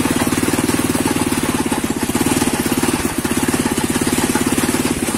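A homemade tractor engine runs steadily near the mic, a rapid, even chugging pulse at a constant idle with no voices.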